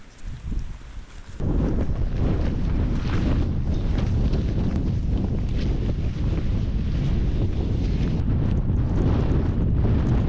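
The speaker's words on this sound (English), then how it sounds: "It's windy, a bit windy." Strong wind on an exposed hilltop roars and buffets the microphone continuously after a brief quieter start, a loud, steady rush with no talking.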